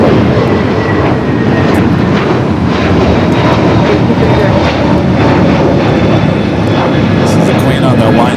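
A Lufthansa jumbo jet at Los Angeles airport rolls with a loud, steady jet engine roar that fills the whole stretch, a broad constant rumble heard from a distance with no pauses.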